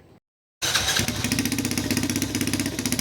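A motorcycle engine with a tube-type exhaust pipe kicks in after a brief silence and idles loudly, its exhaust giving a steady, throaty rumble with a fast pulsing beat.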